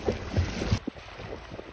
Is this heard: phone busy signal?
no